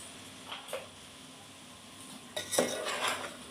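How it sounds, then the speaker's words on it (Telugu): Chopped ridge gourd stirred in an oiled pan with ginger paste and chili powder, close clinks and scrapes of a metal spoon against the pan, soft at first and then a busier run of stirring. "ఇలా బీరకాయలు వేసాక కలుపుకోవాలండి"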